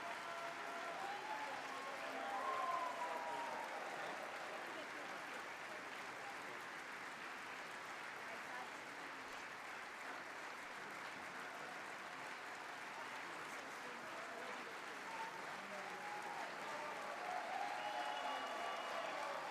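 Sustained applause from a crowd at a political gathering for McCarthy being elected, steady and dense throughout with faint whistles or voices poking through.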